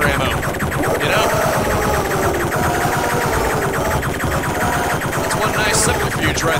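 A Ripper chaingun fires in rapid sustained bursts in Duke Nukem 3D, loud and dense with overlapping gunfire and game noise throughout.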